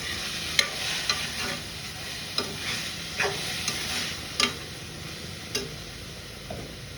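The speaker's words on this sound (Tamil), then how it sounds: "அதனால் தக்காளியோடையும் நல்லா வதங்கிடும்." Boiled black chickpeas and tomatoes sautéing in a pan make a steady sizzle, broken by repeated clicks and scrapes of a spoon stirring, close and moderately loud, with no talking.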